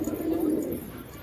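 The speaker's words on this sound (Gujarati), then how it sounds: "જો તમને બીજું કબૂતર સ્ટેમ્પ વાળું બતાવું." A pigeon at a pigeon-flying tournament gives a single soft, close, low coo, heard alone.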